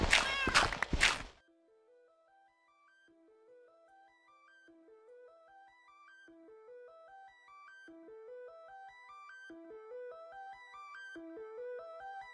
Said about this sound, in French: J'ai un chat qui meurt.